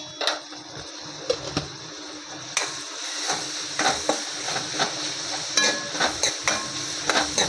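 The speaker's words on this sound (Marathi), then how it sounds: "आता चांगला परतून घेऊया मसाला." Kashmiri chilli powder, coriander-cumin powder and turmeric sizzle in a hot pan as they are sautéed, with a steady fry hiss broken by repeated scraping stirs and spatula knocks, close and clear.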